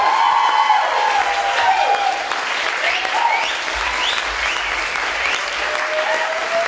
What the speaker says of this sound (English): let's round of applause for Tim and Ruchi